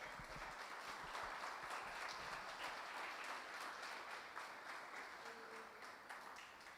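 A church congregation claps together during a sermon, a faint, distant and steady wash of applause that holds for several seconds and eases slightly toward the end.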